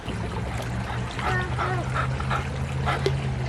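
Water from a creek trickles and burbles steadily, with bright splashy gurgles running through it and a low hum underneath.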